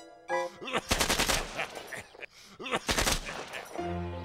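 Bursts of rapid gunfire from a father's gun in an animated scene, two loud volleys of quick repeated shots with a pause between, mixed with music and other sound.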